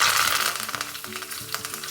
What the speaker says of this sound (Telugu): తాలింపు గరిటెలోకి ఆయిల్ వేసుకొని శనగపప్పు, మినపప్పు వేసుకొని ఆవాలు, జీలకర్ర వేసుకొని కొద్దిగా వేగిన తర్వాత కొద్దిగా ఇంగువ వేసుకుందాం.